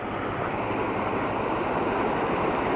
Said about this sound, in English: There's some waterfalls here, Tim.